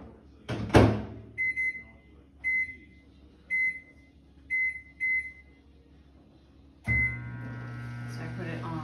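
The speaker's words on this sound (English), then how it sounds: "So I'm gonna put it in the microwave." A microwave oven heating oatmeal in a kitchen: a door thunk, a series of short beeps as it is set, a low hum while running, then a louder clunk and a final beep, fairly close and quiet.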